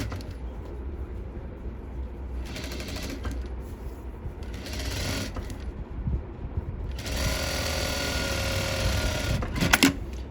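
A sewing machine stitches a blouse in several short bursts of rapid mechanical clatter separated by quieter pauses, with the longest run near the end.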